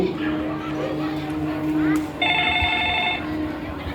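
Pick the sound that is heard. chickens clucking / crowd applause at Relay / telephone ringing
telephone ringing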